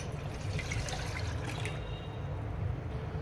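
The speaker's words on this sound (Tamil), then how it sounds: "அதில் நம்ம எடுத்து வச்சுருக்கிற ஒரு கிளாஸ் தண்ணியை சேர்த்துக்கலாம்" A steady stream of a glass of water pours into a pot for a hair tonic, a continuous splashing rush that fills the room without any talking.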